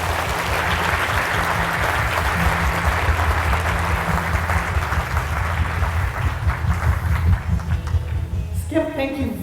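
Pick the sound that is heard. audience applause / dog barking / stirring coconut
audience applause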